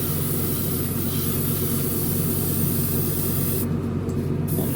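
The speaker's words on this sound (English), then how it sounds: "Just do a little test spray, make sure that we got everything good here." A short test burst of silver spray paint aimed at the hood of a Revell 1971 Boss 351 Mustang plastic model kit, heard as a steady, continuous close hiss that runs unbroken for several seconds with no talking.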